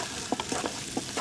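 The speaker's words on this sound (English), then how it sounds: "So stir that in with the bacon and just let it cook down till the onions are nice and translucent." Onions, bell pepper and celery sizzle softly in frying bacon in a pot for a gumbo, with a few quick stirring scrapes over the low hiss.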